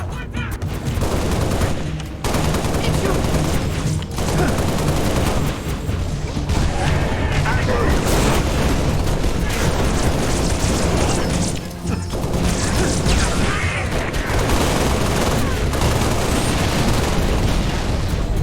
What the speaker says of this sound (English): how intense the gunfire sounds actually are